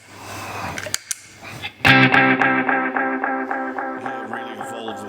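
Electric guitar played through a TC Electronic Flashback II tape delay, a few soft notes then a sustained chord whose repeats shimmer and wobble with modulation, ringing out loud and close without voices.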